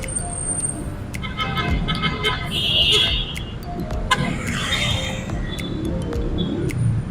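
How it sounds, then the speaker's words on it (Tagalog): Street traffic rumbles steadily, with cars passing and engines droning nearby and a few sharper clicks and squeals mixed in; a voice talks over it in places. "Medyo traffic."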